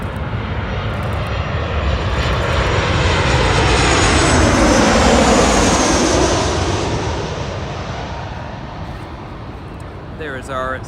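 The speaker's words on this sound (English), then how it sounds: "There is our Southwest 737 from San Jose" A Southwest Boeing 737 from San Jose passes overhead on landing at LAX, its engine roar swelling loud and close, peaking mid-pass and then fading, with a voice talking over it.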